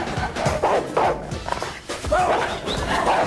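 A pet dog in a home barks and yips in a series of short, loud, close bursts, with whimpers and footsteps mixed in.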